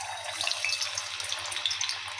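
Potato vadas slid one by one into hot coconut oil, frying with a steady close crackling sizzle full of small bright pops, alone without talk.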